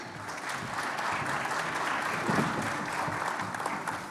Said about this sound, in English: If we could give them a little round of applause.